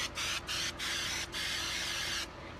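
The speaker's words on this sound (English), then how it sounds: "you can actually stop pumping and actually do spray" A pump sprayer hisses in bursts as it coats a wreath with flocking, four short sprays followed by a longer continuous one, close and fairly loud with no talk.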